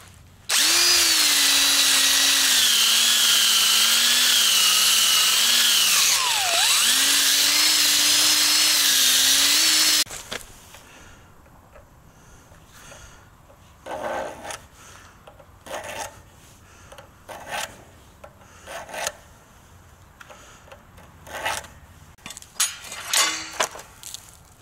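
A power tool grinds the ends of ground rods clean for a brass-spliced frame grounding kit. A loud, steady whine runs for about ten seconds and dips once in pitch, then scattered clanks and handling noises follow.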